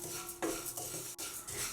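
Flattened rice being stirred and dry-roasted in a pan, quiet scraping strokes of a utensil against the metal repeating every half second or so, faint and close.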